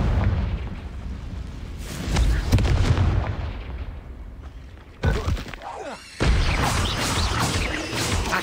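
Confringo blasting spell explosions from the video game Hogwarts Legacy: several heavy, rumbling booms with a sharp break partway through, loud and close, no talking over them.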